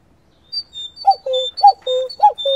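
Jazz musicians imitate a cuckoo's call on instruments, including soprano saxophone, during a bird-themed greeting at an agricultural high school garden in Coutances; repeated two-note falling phrases answer one another in a steady rhythm, clear and close.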